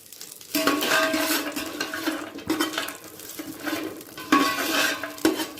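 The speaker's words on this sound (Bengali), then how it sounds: "কাজুটা প্রথমে একটু হালকা করে ভেজে নেব" Cashews fry lightly in a pan with whole spices for pulao: cardamom, cloves, cinnamon and bay leaves. A soft sizzle runs under repeated stirring scrapes and metallic clinks of a spatula against the pan, all close by.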